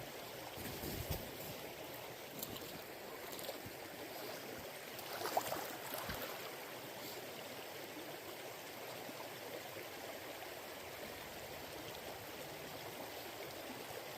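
A river flows steadily in a snowy back-country setting, a continuous soft rushing wash heard faint and unbroken, with a couple of small knocks and no voices.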